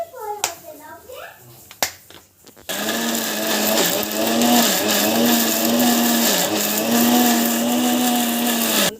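A few seconds of voice and clicks, then a kitchen mixer grinder grinding chutney starts up loudly and whirs continuously, its motor pitch dipping slightly as it churns.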